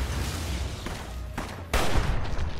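Hunting rifle gunshots in the video game Fallout: loud, sharp reports over a dense, noisy game soundscape, with one especially strong blast near the end followed by sustained rumble.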